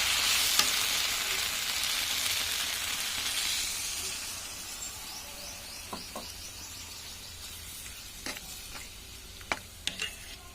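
Water poured into a frying vegetable and soybean curry gives a loud, close hiss and sizzle that slowly subsides. Faint bird chirps and a few small clicks follow as the pan quiets.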